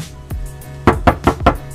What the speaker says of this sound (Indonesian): Seperti yang kalian dengar, kita akan ketok-ketok dulu.